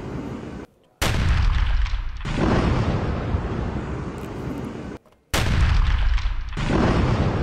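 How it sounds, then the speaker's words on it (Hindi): Bombing near Rafah in news footage: two heavy explosions, each striking suddenly after a short silence and rolling on as a loud, deep, rumbling blast that slowly fades. "राफा के पास बमबारी का वीडियो आया है"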